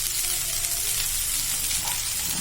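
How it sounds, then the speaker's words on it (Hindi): Okra frying in hot oil in a kadhai: a steady, close sizzle with continuous crackling that holds at an even level throughout, with no talking. "आइए अब हम पहले भिंडी को तेल में थोड़ा सा सेक लेते हैं।"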